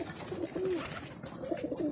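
A crowd of freshly collected pigeons of many kinds coo continuously while feeding, overlapping throaty calls close and fairly loud with no talk.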